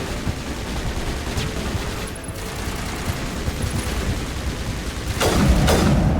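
Gunfire in the Mass Effect video game rattles in dense continuous bursts, loud and close, with a couple of sharper blasts standing out toward the end.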